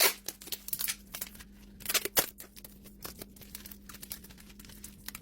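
Adhesive tape pulled and wrapped around wooden skewers while assembling a small marshmallow tulip bouquet, giving close, irregular crinkling, tearing and tapping bursts against a quiet background.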